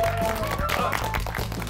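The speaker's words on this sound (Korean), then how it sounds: "박수 보내주시고" Studio audience applause on a Korean television golf show, a steady dense wash of clapping with busy background music running beneath it throughout.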